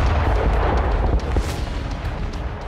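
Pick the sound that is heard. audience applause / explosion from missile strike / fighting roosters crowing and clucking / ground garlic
explosion from missile strike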